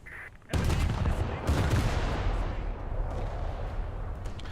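Naval guns firing shells in a video game, a sharp heavy blast followed by a long rumbling boom and rolling echo, with further distant thuds.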